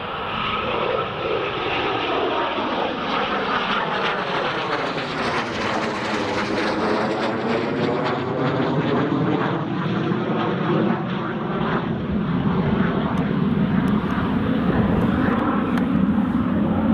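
Eurofighter Typhoon jet flying past at an airport, a loud sustained roar that swells and sweeps in pitch as it passes, staying strong throughout.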